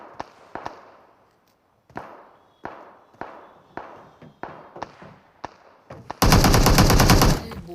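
Video game gunfire as a player kills a bot: a string of single, evenly spaced close shots with sharp decays, then a dense, loud automatic burst at the end.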